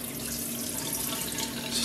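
Water runs steadily from a tap with no hot water, a constant even hiss of flow close by, alone with no talk over it.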